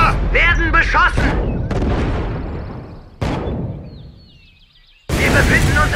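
Sharp gunshots and blasts from a battle in Codename: Panzers Phase One, loud bursts separated by decaying echoes, with a faint electronic whine in a quieter gap.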